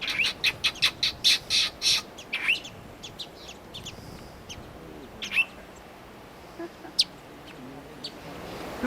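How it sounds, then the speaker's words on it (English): Small birds in the Galápagos Islands call in a quick burst of high, sharp chirps and tweets at close range. Scattered calls follow, with faint voices in the background. "Just like Darwin, we were fascinated by these tiny birds that he used to inform our understanding of evolution"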